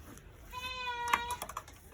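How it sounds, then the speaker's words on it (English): A goat on a small farm lets out a single wavering bleat near the middle of the clip, moderately loud against a quiet outdoor background with a few small knocks. "Now on to the goats."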